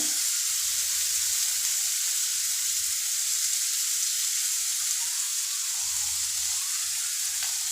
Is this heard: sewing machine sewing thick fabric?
no